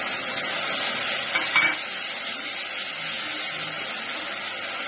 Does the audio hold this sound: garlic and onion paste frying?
yes